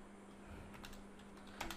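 Typing on a computer keyboard during a Figma web design session: a quiet, quick run of light key clicks with a slightly louder cluster of taps near the end, alone.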